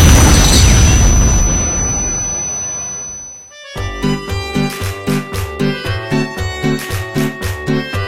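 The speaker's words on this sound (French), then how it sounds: "il va exploser" A loud, close boom rolls out and decays over about three seconds, then cuts into rhythmic music.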